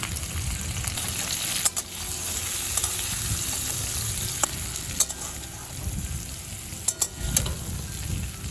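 Potatoes and drumstick pieces fry together with turmeric for a Bengali curry, sizzling steadily in the pan with stirring scrapes and a few sharp clanks of a spoon against the metal, close and continuous.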